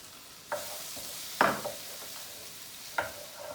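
Finely chopped onion frying in a skillet gives a low steady sizzle, punctuated by three or four sharp scraping stirs of a utensil, close by and without speech.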